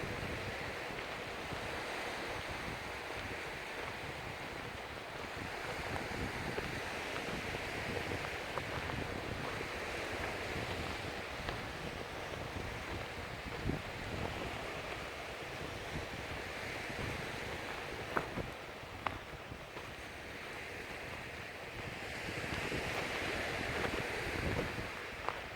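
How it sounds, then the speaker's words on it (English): Sea waves wash steadily onto the beach at Walney, Barrow-in-Furness, a continuous broad roar of surf mixed with wind buffeting the microphone, with no voices over it. "The sound of the sea is so therapeutic."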